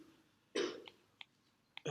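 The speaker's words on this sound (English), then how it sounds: "Who's coughing?" A single faint, distant cough in a lecture room, followed by a couple of soft throat sounds, with no talking.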